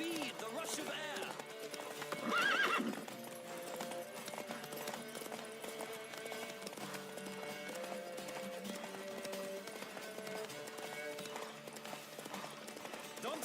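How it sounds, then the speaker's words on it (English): Horse hooves clip-clopping in a gallop across open ground in The Witcher 3, a quiet rhythmic patter beneath a game music score, with a brief louder burst early on. "Don't spare the horse!"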